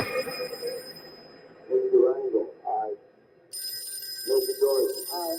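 A telephone rings with an incoming call, its bell tone sounding in short repeated bursts at moderate volume, broken by gaps and a brief shift in the background.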